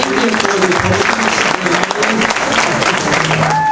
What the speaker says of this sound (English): a round of applause for coming out here tonight